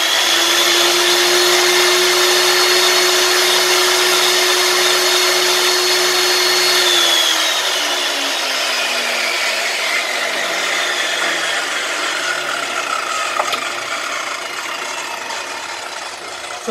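A 10-inch Ryobi table saw motor under repair runs with a steady loud hum, then spins down after about seven seconds, its pitch sliding lower as it coasts to a stop.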